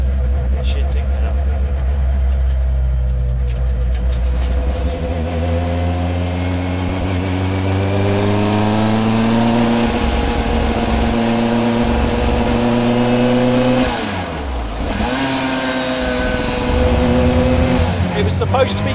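A Lancia Rally 037 Group B restomod engine revs while driving, its note rising steadily through the gears with a dip at a shift, loud and close beneath someone talking.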